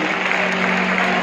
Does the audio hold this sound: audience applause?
yes